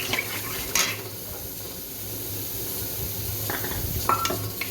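Onions sautéed in a pot with water, salt and coriander come to a boil for Karnataka-style ragi mudde, a steady close bubbling sizzle with occasional spoon or pot clinks.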